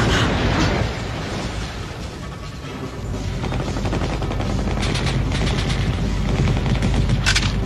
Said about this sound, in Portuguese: Tiroteio entre duas gangues rivais.